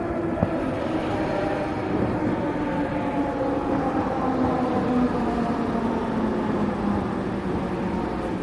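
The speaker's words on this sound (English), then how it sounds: "Now there's trains here." A train rolls past, a low continuous rumble with a slowly falling tonal whine, fairly loud and steady throughout.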